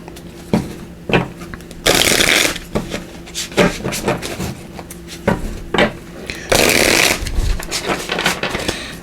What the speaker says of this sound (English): I'll explain as I pull cards here.